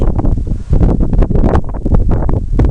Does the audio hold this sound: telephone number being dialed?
no